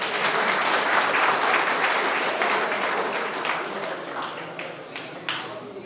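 Audience applause at a pigeon racing tournament prize distribution in Palakkad, a sustained burst of crowd clapping that slowly thins and fades, with a few scattered claps and voices near the end.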